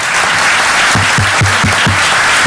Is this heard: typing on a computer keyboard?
no